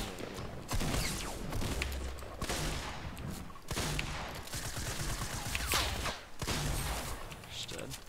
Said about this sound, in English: I'm just shooting at you.